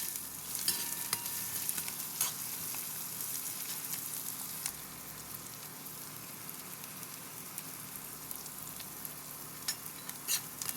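Onions with salt sautéing in a pan, giving a constant fine crackling sizzle with scattered sharp ticks of stirring, fairly quiet and steady throughout with no voices.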